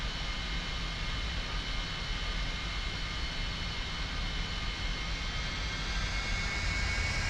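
Steady, loud jet engine roar and whine of a Cessna Citation II S550 in the flight simulator X-Plane 11, holding constant with a slight rise toward the end as it sits on the runway for takeoff.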